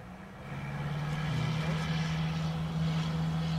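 An IXEG 737 Classic airliner in X-Plane 11 drones with a loud, steady engine roar, a low hum that shifts pitch once and stays strong throughout.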